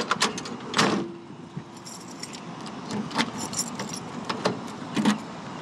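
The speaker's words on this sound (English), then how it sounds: "See if the key works. I use the right key. Yep, and that does work." Keys jangle and rattle in the lock of a 1967 Ford Mustang with a 302 V8 and automatic, a close burst of metallic clinks followed by scattered lighter jingles and clicks over several seconds, with no talking.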